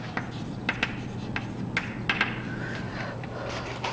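A pen scratches out an answer to a calculus related-rates problem on paper, soft irregular scribbling strokes with small taps, close and quiet against a low steady hum.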